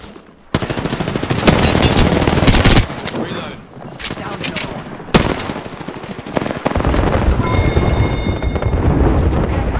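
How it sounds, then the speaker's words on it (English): Rapid bursts of automatic gunfire in Apex Legends, loud and dense, firing in long runs broken by brief pauses, with in-game explosions and effects layered over the shots. "Shooting at me."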